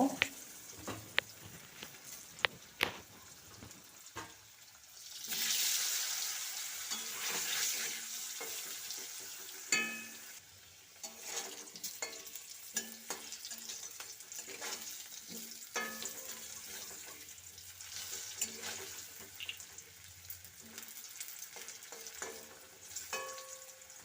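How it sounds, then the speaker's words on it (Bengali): Boiled potatoes fry in oil with salt and turmeric in a pan, a fairly quiet sizzle with frequent clatters and scrapes of stirring, a louder hissing surge near the start of the middle section. "সেদ্ধ করা আলুগুলো দিয়ে লাল লাল করে ভেজে নেব"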